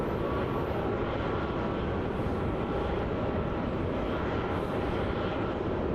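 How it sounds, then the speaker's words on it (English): A Qantas Boeing 737-800 airliner arriving at Melbourne Airport, a steady broad roar of jet engines that stays loud and unbroken throughout, with no talk. "This appears to be a Qantas 737-800 flight QF609 arriving in from Brisbane."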